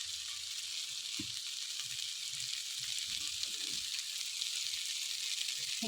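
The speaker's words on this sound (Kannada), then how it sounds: "ಕಾಳು, ರೈಸ್ ಎಲ್ಲ ಮಸಾಲೆ ಎಲ್ಲ ಚೆನ್ನಾಗಿ ಫ್ರೈ ಆಗೋದು ನೋಡಿ." Lentils, rice and spices for dill-leaf khichdi fry in a pan with a constant hissing sizzle, punctuated by soft stirring scrapes and bumps, close and moderately quiet, no speech.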